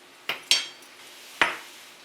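A few sharp metallic clinks and scrapes of a utensil against a dish ring out near and alone while butter, flour, brown sugar and cinnamon are mixed for pumpkin cheesecake bars.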